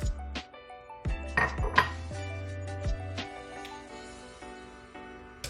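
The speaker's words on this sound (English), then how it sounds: "we're going to go ahead and add in our chocolate chips" Chocolate chips poured into a metal bowl set over a double boiler for melting with butter, giving a close, loud series of clinks and rattles against the metal, in bursts over a few seconds.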